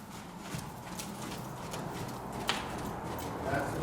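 A horse's hooves beat out a faint, regular trotting clip-clop on open ground, with one sharper hoof strike partway through, against soft outdoor background noise.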